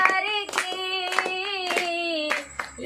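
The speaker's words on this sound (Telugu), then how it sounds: "అందరూ చప్పట్లు కొట్టాలి దయచేసి" Rhythmic hand clapping, about one clap every half second, sharp and steady, under a sustained singing voice with music during a Christian worship song.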